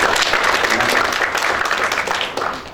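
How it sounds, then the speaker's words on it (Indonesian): Audience applause at a youth church gathering, dense continuous clapping from a large crowd that fills the space and fades slightly toward the end. "Berikan tepuk tangan."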